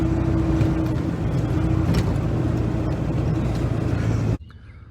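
A 1999 Ford 7.3 Powerstroke diesel truck hauling a 16,000 pound backhoe, a steady loud engine drone with road rumble from inside the cab that cuts off abruptly near the end.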